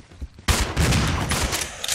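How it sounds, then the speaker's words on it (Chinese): After a quiet start, a sudden loud burst of rapid gunfire in Resident Evil 0 HD runs on continuously to the end, dense and close. "我不是叫你不要开枪。"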